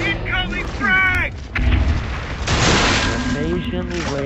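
A frag grenade explodes in a video game with a heavy boom partway through. Voices talk over the game's gunfire and noise before and after the blast.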